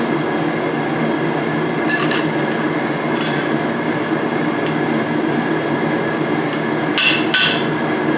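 At a blacksmithing demonstration on forging tongs, a hammer strikes a hand-made punch, giving a handful of sharp metallic clinks spread irregularly over a constant rumbling background.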